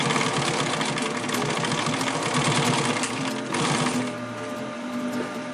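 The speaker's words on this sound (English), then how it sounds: "Just do a row of stitching" Sewing machine stitching webbing onto a chest pouch, a fast continuous mechanical rattle running several seconds at close range, easing off toward the end.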